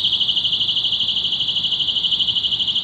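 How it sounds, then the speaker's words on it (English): A keychain personal safety alarm screams continuously, a shrill high-pitched tone with a fast steady pulsing warble, loud and close with no talking. "So let's have her to also test the keychain alarm."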